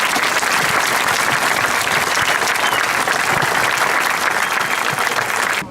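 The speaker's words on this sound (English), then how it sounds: "So please join me in a well-earned round of applause for our drill instructors and their families" Dense, sustained crowd applause at a Marine Corps graduation ceremony, loud and steady throughout, honoring the drill instructors and their families, with no speech over it before it tapers at the very end.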